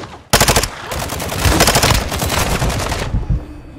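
Automatic gunfire in a battle royale video game opens after a brief quiet moment: rapid, loud, close bursts that hammer on for about three seconds, with no talk over them.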